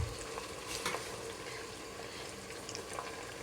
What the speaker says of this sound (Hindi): इसके अंदर फ्राई करना शुरू करेंगे।